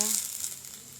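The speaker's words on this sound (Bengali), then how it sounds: "আমি ফোড়নে দিয়ে দিচ্ছি শুকনো লঙ্কা, তেজপাতা" Dried red chillies and bay leaves sizzle in hot oil as a tempering for chicken curry, a steady close hiss that starts briefly louder and settles lower.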